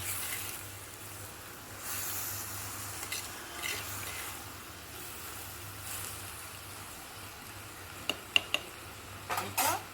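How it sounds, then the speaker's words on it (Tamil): Tomato and salt frying in a pan while being stirred, a soft steady sizzle with a few faint clinks of a utensil against the pan near the end; no talking. "உப்பு போட்டதுனால நல்லா கிளறி விடணும்"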